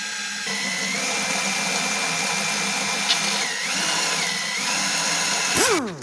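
A drill spins the oil pump of a Chevy 4.3 Vortec V6 to prime it and build oil pressure, making a continuous close whine whose pitch dips and recovers, then spins down at the end.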